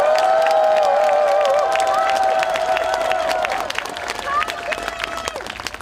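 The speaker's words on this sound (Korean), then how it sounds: "박수를 한번 쳐주십시오" An audience of older people at a Korean rally claps and cheers loudly, with shouted calls and a few sustained voiced whoops riding over dense applause that thins out toward the end.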